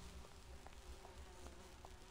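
Bees buzz in the video game Grim Fandango Remastered, a faint, steady drone beneath a constant hum of background tone, with a few light repeated ticks and no talking.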